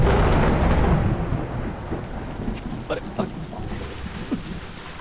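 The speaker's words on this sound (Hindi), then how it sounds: "जब मैं गाना गाता हूँ तभी बारिश होती है।" Heavy rain pours steadily while thunder rumbles loudly, then eases into a lower, continuous downpour with a few softer distant rolls.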